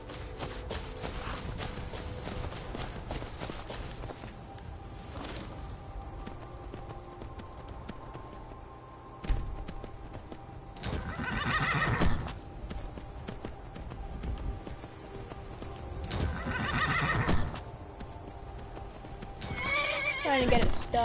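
A horse in the Skyrim video game gives several loud whinnies and snorts over quieter clip-clopping hooves and game ambience, a speaking voice occasionally heard alongside.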